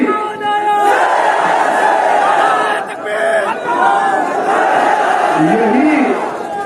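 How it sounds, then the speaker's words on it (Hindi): A large crowd at an outdoor political rally in Jaunpur roars a Nara-e-Takbir slogan in unison, a loud sustained mass of voices that swells, dips briefly and surges again. "तो जोर से नारा लगाइए, नारे तकबीर, नारे तकबीर"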